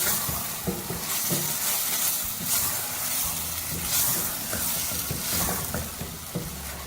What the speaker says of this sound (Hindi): 1/2 kg मैंने बकरे का गोश्त लिया था। इसको मसाले के साथ डाल के भूनेंगे।